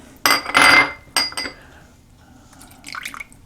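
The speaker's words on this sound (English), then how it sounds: "So I'm going to put in I'm going to mix all this together." Soy sauce, dark soy sauce, black vinegar and pepper being poured and stirred in a bowl produce a loud splashing pour, then a shorter liquid burst and faint clinking of a utensil, with no talking.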